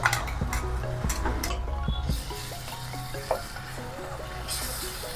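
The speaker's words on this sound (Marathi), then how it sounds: "आता आपण हे प्युरी घालूया टोमॅटोची।" Tomato puree hitting a pan of lightly browned onions on high heat, a steady sizzle and frying hiss with stirring clatter and ticking pan sounds throughout.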